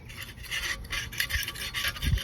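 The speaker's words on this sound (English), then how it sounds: "get all this old gasket off of there. I've got my little scraper here" A hand scraper rasps old gasket material off a rear differential cover in quick repeated strokes, close and fairly loud with no talking.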